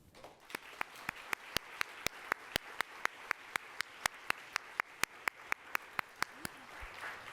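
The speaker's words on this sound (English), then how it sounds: "we're going to give a really big round of applause to our panelists, Commissioner Erica Crawley, Madison Hilson," Sparse, evenly spaced hand claps for a panel ring out one after another in a steady rhythm, faint and in a quiet room.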